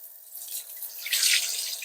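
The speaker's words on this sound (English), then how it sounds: "I'm just going to run the water through the rice and swish it around so that I'm loosening all of that starch" Tap water running and splashing over rice being rinsed in a pot, a soft steady hiss that swells slightly toward the end, alone with no talk.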